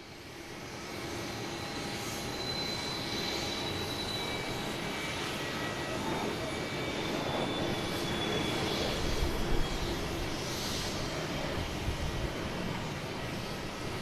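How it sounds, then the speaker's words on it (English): A Cessna Citation business jet departs an airport with a sustained, loud engine roar and thin high whine that swells gently toward the middle and stays continuous, with no talking. "Our next taking off is a Cessna Citation heading to Charlottesville, 490 miles."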